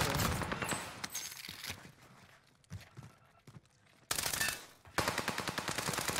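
Rapid bursts of MP40 submachine gun fire in the video game Rebirth, loud and close, with a quieter lull in between before the automatic fire resumes in dense rattling strings.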